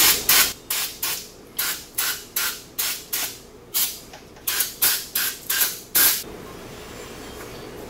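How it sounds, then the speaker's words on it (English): Carburetor cleaner sprayed from a can onto the rear hub of a Polaris RZR 800 during an axle change, about a dozen short close hissing bursts in quick irregular succession, with no talking. "I'm going to take a little carburetor cleaner and clean it up just a little."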